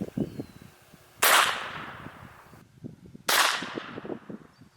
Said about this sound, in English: Let's hit it with the blank from 1 inch away,